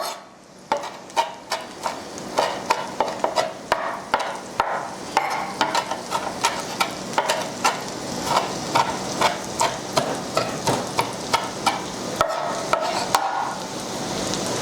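Leeks sautéing in butter in a pan, with a steady soft sizzle broken by a regular run of sharp scraping and tapping strokes from stirring, close and fairly loud throughout.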